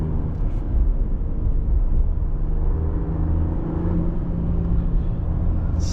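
A 2026 Ram 1500 RHO twin-turbo pickup on the move, heard from inside the cabin as a steady, loud engine drone and road rumble that barely changes throughout.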